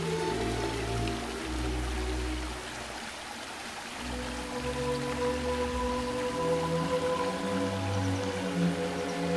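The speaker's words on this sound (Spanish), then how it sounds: "Río de Durca, a finales de agosto." Shallow flow of the Dúrcal river in late August with little water left, a close, steady babbling and splashing over rocks, dipping briefly before rising again.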